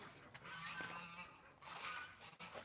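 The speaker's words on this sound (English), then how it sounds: "How are you doing, little duck?" A pet duck named Minnie calls out in a couple of honking, nasal quacks, soft and a little distant, outdoors with low background noise.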